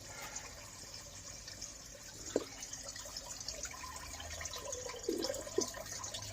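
Coolant drains from a 2000 Ford F150, a soft steady trickle of liquid with a few brief splashes and drips, fairly faint and without talking.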